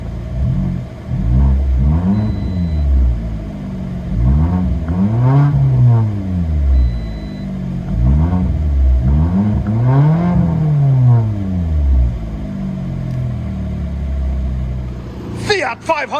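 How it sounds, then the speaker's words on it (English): A straight-piped 2017 Fiat 500 exhaust revs and accelerates in repeated loud, close pulls with rising and falling engine tone, ending in a short burst of rattling noise. "Fiat 500 going super fast. Straight piped."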